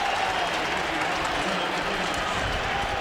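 A sellout stadium crowd of 73,000 at a Cleveland Browns football game cheers its defense after a tackle for a loss, a dense, steady roar of voices and applause filling the space without a break.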